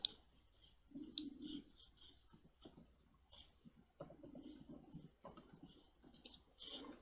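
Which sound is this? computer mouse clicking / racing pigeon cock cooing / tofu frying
computer mouse clicking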